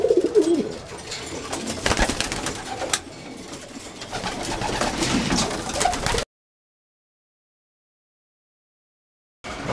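Pigeons cooing and calling amid other birdsong outdoors near a feeding spot, continuous for several seconds with faint rustling, then cutting to silence before a brief return at the end.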